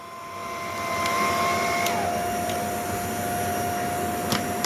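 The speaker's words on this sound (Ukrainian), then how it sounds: "Вімкнули фен" A hair dryer powered by an EcoFlow portable power station whirs steadily with a high tonal whine and broad airy rush, its pitch dropping slightly as it settles, with a few faint clicks.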